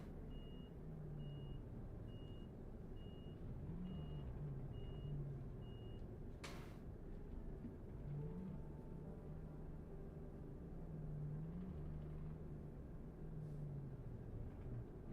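A truck's reversing alarm beeps in a steady, evenly spaced pattern over a low idling engine rumble, faint and somewhat distant, with a brief hiss like an air brake partway through.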